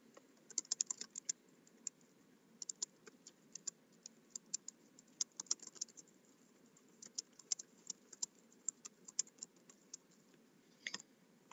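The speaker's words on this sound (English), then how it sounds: "Finished typing that paragraph." A paragraph is typed on a computer keyboard, a faint, quiet run of irregular key clicks and taps in bursts with short pauses, heard alone in a still room.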